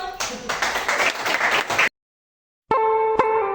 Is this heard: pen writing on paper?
no